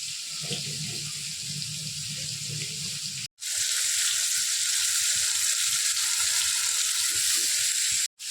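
Bombil, or Bombay duck fish, frying in a pan, giving a loud, steady, close hiss and sizzle that runs almost unbroken, with faint low sounds early on.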